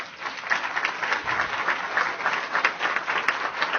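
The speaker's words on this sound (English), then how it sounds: "they should be given a round of applause for their efforts" An audience at a mayoral press event applauds young men being recognised, a fairly close, uneven patter of many hands clapping that pulses steadily for several seconds.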